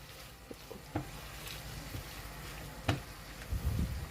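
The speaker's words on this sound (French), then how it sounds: "Je remue." Chicken curry with coconut milk stirred in a pan, a soft bubbling sizzle under scattered scrapes and taps of the utensil, with a louder knock near the end.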